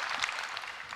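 Congregation applause fills a Korean church Sunday worship service during a 39th-anniversary revival gathering, a brief, dense burst of many hands clapping at steady volume.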